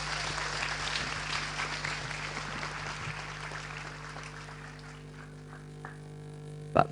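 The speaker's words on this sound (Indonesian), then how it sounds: "Pak Lukman, tepuk tangan semua," An audience clapping together at a talk, a dense wash of applause that gradually thins and fades over several seconds, ending with a faint stray thump.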